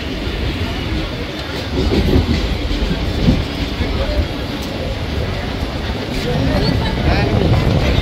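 A Sealdah–Ranaghat suburban local train runs steadily between stations, its rumbling wheels and rhythmic clickety-clack loud and continuous from onboard, with cabin noise swelling in places.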